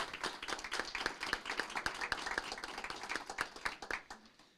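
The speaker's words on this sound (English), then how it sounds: "Can we give them another big round of applause" Applause at a city council meeting: a smallish group claps in a distinct, patchy rhythm, moderately loud, then tapers off and stops near the end.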